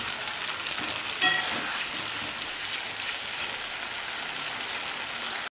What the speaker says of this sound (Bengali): এই মশলাটাকে দিয়ে ভালো করে এবার কষাবো।